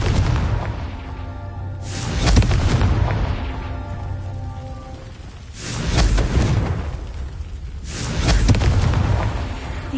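Repeated fiery Confringo spell blasts in Hogwarts Legacy, three loud booming bursts spaced a few seconds apart, each swelling and fading over a low background hum, with no voices.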